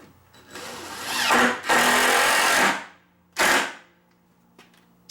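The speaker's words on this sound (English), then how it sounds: "I'm just drilling through the main stud, and then the pre-drill acts as a pilot." A power drill bores through a main wooden stud while a parts shelf is being built, in two long whirring bursts followed by a shorter one, loud and close, with faint clicks between and no speech.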